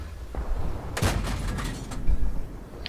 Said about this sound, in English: I'm just taking harassment shots at them.